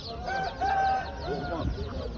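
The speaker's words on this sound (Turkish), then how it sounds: "Arkada bir sürü güvercinler, tavuklar." Pigeons coo with soft, rolling calls amid other birds at a market selling poultry and pigeons, several overlapping close-by calls with faint chirps and a voice murmuring in the background.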